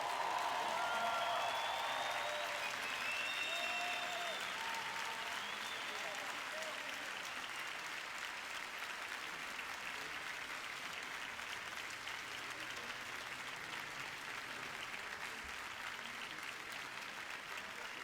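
A church worship crowd gives a long, steady round of quiet applause, with a faint voice and musical tones near the start before the clapping carries on alone.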